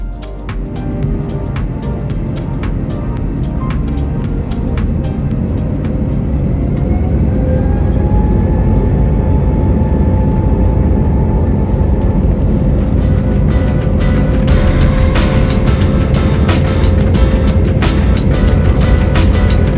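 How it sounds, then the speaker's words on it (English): Air Astana Airbus A321LR airliner taxiing out toward the runway, a steady loud cabin rumble of engines with faint whine and occasional clicks, no talk. "We pushed back from the gate on time and headed out to the runway."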